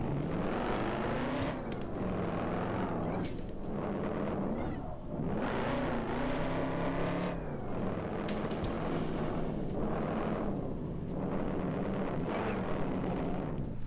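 Car drifting in the racing game Drive Zone Online, with a loud, continuous engine roar rising and falling in repeated revving sweeps and tyre squeal over about fourteen seconds, close and steady throughout.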